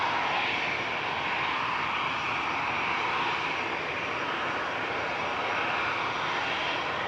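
A TUI airliner at Manchester Airport departs for Sharm el Sheikh, a steady broadband engine roar that holds evenly throughout, loud and continuous with no voices.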